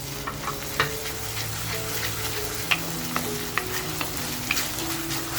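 Continuous sizzling in a hot pan as chicken stock meets the masala for chicken kharda, with occasional sharp spatters and clinks of a spoon stirring.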